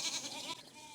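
A single sheep bleats in the video game Saddle Up with Pippa Funnell, one short wavering nasal cry lasting under a second, close and clear with no talk.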